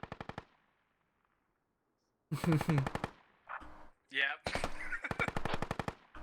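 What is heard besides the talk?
gunfire in a military video game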